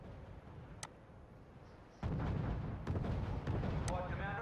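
Artillery fires during a World War II battle at Kasserine Pass in the strategy game R.U.S.E., a dull rumbling barrage with scattered sharp cracks and thumps, fairly faint and continuing under a steady din.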